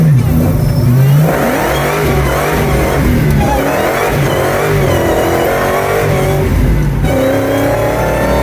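A 1970 Dodge Charger R/T fitted with a Hellcat supercharged engine accelerates hard from inside the cabin, its loud engine note climbing and surging through several revving pulls.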